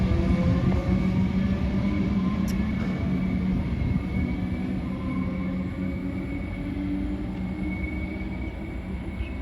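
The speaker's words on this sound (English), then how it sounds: "I'm at the rear of that train." A Melbourne suburban train at St Albans station rumbles steadily, a broad continuous rolling roar with a faint high tone above it, heard from the platform at the rear of the train, with no talking.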